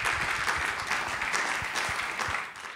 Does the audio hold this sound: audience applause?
yes